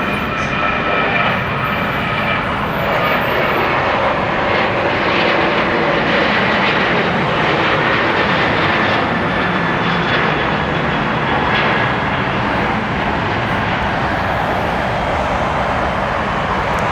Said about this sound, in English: This one, we got this United 737 900ER.